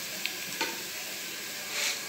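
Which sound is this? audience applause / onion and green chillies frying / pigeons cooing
onion and green chillies frying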